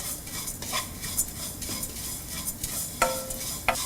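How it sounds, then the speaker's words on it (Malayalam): Flattened rice (aval) frying in ghee for aval payasam: a quiet, soft sizzle under repeated scraping and stirring strokes of a utensil against the pan, with a few sharper clinks. "നെയ്യിലോട്ട് നമ്മൾ എടുത്തു വച്ചിരിക്കുന്ന അവലിട്ട് ഫ്രൈ ചെയ്യുക."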